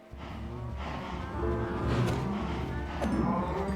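Several video game cows moo in drawn-out, overlapping calls over a steady low hum, growing a bit louder toward the end.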